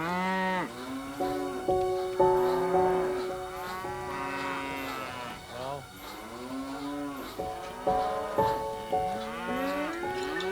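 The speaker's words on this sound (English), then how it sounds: "What is that man doing with them cows now?" Several cows moo one after another, long, deep lowing calls that overlap and continue without a break, loud and near.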